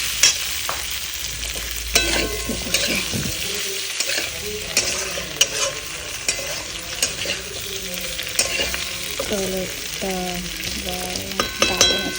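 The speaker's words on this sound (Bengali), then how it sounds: "এখন সবজিটাকে কষিয়ে নিচ্ছি ভালো করে" Vegetables sauté in a pan with a continuous close sizzle, and a spatula repeatedly scrapes and clatters as they are stirred throughout, with no talking.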